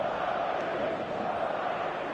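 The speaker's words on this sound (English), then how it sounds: "An intimidating atmosphere in the crowd." Dense, steady stadium crowd roar from a football video game set in an old-style stadium, the New Balance Arena, a continuous loud wash of voices and chanting with no clear breaks.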